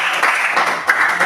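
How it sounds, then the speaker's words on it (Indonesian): Classroom applause from a group of students clapping together for their classmates, a dense, steady patter of many hands close by, loud and continuous throughout with no talking over it. "Aplaus dulu untuk semua teman."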